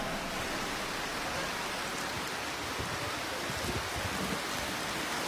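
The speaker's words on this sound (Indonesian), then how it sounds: "Hujan sebentar lagi berhenti, jangan hiraukan hujan ini." Steady rain hiss falls outdoors during a regent's public speech in Keerom, Papua, a dense broadband wash with no voice clearly audible above it.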